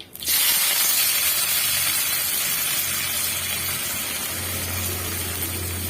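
Colocasia (taro root) pieces with spices roasting in a pan after mustard seeds have popped, a steady broad sizzling hiss that runs loud and unbroken throughout.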